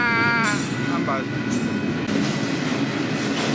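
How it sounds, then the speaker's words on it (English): A train rolls past a crossing in town with a loud, steady rumble, and a high metallic squeal cuts in briefly near the start. "So the train is over."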